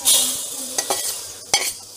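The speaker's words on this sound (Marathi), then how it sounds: "डाळ पण अशी छान असं तांबूस रंगावरच भाजायची आहे" Lentils being dry-roasted in a pan for khimti, stirred with a spoon that scrapes and clinks in a few sharp strokes over a light, hissing rustle close by.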